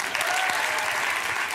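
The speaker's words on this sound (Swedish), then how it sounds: "ge en varm applåd till Pernilla Hammargren" Warm studio audience applause greets a guest on a Swedish comedy talk show, a dense, steady clapping that holds at an even level throughout.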